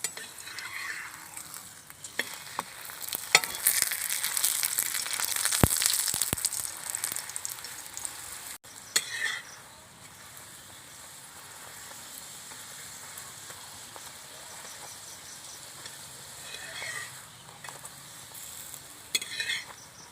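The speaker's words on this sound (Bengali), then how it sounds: "বাকি লাচ্ছা পরোটাগুলো আমি একইভাবে ভেজে নেব।" Lachha paratha frying in a pan on the stove, a steady hiss of sizzling oil that is loudest early on and then settles into a quieter crackle, with occasional scrapes and clinks of a utensil.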